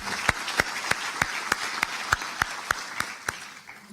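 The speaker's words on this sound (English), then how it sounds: "That's worthy of some applause." Audience at a university employee welcome day giving brief applause, heard as sparse, evenly spaced individual claps at moderate distance, fairly faint and tapering off.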